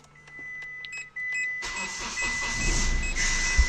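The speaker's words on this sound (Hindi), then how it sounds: "तो गाड़ी को मॉर्निंग कोल्ड स्टार्ट करते हैं पहले तो" A 2013 Hyundai Grand i10 Sportz diesel with a 1.1 engine is cold started in the morning: a few beeps and clicks, then the engine abruptly catches and settles into a loud, rough idle.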